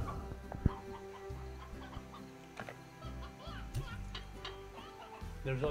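Briar hens cluck softly in the video game Slime Rancher, with scattered short clucks and ticking sounds over a low, busy game background.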